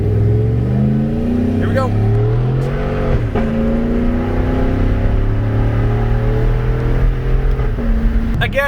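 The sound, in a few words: heavy car with Borla exhaust accelerating hard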